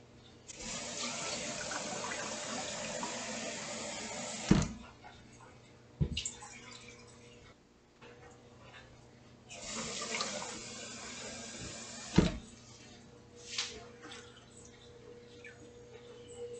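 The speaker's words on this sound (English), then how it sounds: "Maybe I'll add some more water in the soup." Water runs from a kitchen tap into a soup pot in two long gushing spells, broken by the clunk of the tap turning off and a few clattering knocks of pots and utensils in between.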